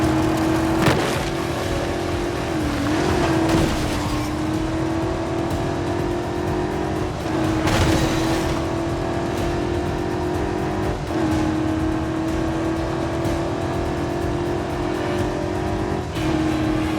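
A car chase in the 007 First Light video game, an engine revving and surging loudly with gear shifts and whooshes of passing traffic, sustained throughout.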